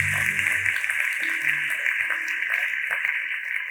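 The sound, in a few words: church congregation applause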